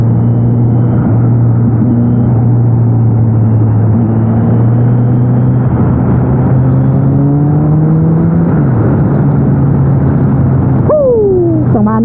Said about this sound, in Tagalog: Yung response ng kanyang makina, ang bilis. Dahil nga sa inline form,